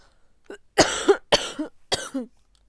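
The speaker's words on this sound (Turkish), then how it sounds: "Her zaman öksürüyor." Three harsh coughs in quick succession, each a sharp burst followed by a rough rasp, close and fairly loud, with a faint breath before.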